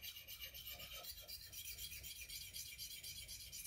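A kitchen knife is rubbed against a sharpening tool held in a clamp, giving a steady, rhythmic rasping scrape of repeated back-and-forth strokes, close and fairly quiet, with no talking.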